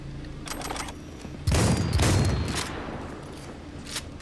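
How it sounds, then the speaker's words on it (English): A power shotgun firing in the video game Cyberpunk, with a heavy blast and crackling burst in the middle amid several lighter gunfire pops, fairly close with no talk. "Power shotgun, nice."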